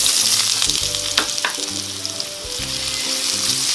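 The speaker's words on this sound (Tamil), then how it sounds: "எண்ணெய் காஞ்சனே ஒரு 3 உருளைக்கிழங்கு போட்டுருங்க." Three potatoes fry loudly in hot oil in a pan for aloo fried rice, a dense, close, continuous sizzle with a few sharper crackles and a steady tonal melody beneath.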